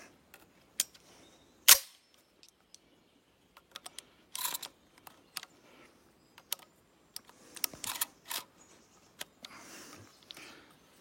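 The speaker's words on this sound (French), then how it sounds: "Pour un tir de 3 cartouches" Three sharp shots from an Armsan 636 semi-automatic .410 shotgun loaded with FOB No. 6 shells, fired outdoors at a distance. The cracks are spaced a few seconds apart among faint clicks and quiet background noise.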